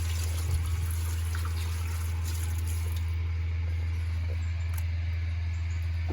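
Running water rinses a freshly rigged mullet roe during fish cleaning, a steady trickle and splash over a constant low hum, close and moderately loud, with no talking.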